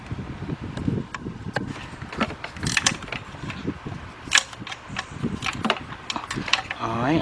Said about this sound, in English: let me see if I can use my 10mm swivel